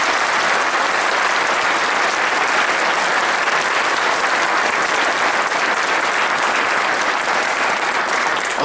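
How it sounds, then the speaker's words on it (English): An audience applauds police commanders at a St. Louis Metropolitan Police graduation ceremony, producing a loud, sustained roar of clapping that holds steady from start to finish with no voices over it. "Let's please give all of them a big round of applause."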